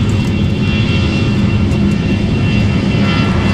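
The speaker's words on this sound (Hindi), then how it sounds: "दोस्तों चलिए अब चलते हैं, विमान उड़ान भरने वाला है।" Airplane on a Varanasi to Mumbai flight taking off, heard from inside the cabin as a steady, loud engine roar with a dense low rumble that holds evenly throughout, with no talk.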